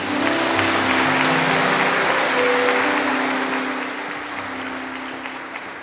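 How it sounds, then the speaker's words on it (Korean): A church congregation claps in sustained, dense applause at a Sunday worship service, loud and steady for several seconds before tapering slightly near the end, with a faint musical tone underneath. "한 번 더 감사의 박수 하도록 하겠습니다"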